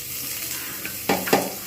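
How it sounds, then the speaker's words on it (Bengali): Sliced onions frying in a thin film of oil in a pan for a bhetki fish curry, a soft steady sizzle with a couple of louder crackling stirs near the end. "পেঁয়াজগুলো ভালোভাবে ভেজে নেব"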